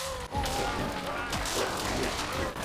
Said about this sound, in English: Damn, these guys have machine guns.